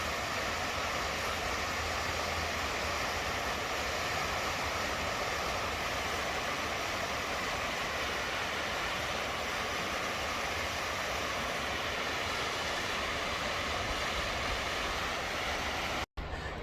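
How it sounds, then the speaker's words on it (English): A small mountain waterfall near Mt. Shasta gives a steady, close, broadband rushing roar that holds unbroken for about sixteen seconds, then cuts off abruptly at the very end. "It's a cool little waterfall."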